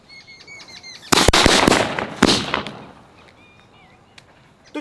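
Small Laxmi paper firecrackers of the little gola type bursting outdoors in a quick, crackling cluster of sharp loud pops, then tailing off into a few scattered snaps and quiet.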